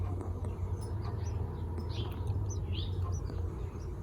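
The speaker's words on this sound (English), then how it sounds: "In between waiting for food from the mommy and daddy birds, what do you think the baby birds do?" Baby birds in a nest chirp faintly in scattered high peeps over a low outdoor background hum.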